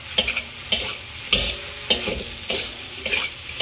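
A spatula scrapes and stirs eggs into frying rice in a pan with a steady sizzle underneath, regular scraping strokes up close.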